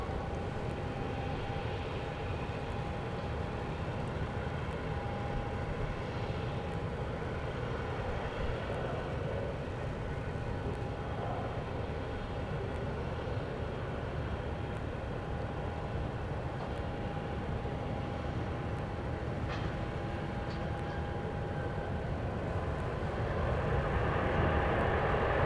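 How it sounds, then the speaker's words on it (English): A Boeing 737-800 lands on runway 13 left at Dallas Love Field, a steady distant jet roar with a faint tone that grows slightly louder toward the end. "This will be a 737-800 landing on runway"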